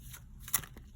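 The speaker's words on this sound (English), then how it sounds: "I have to shuffle this deck a particular way" A tarot deck being shuffled by hand, a brief soft riffle with a sharper snap of cards near the middle, quiet and close with no talking.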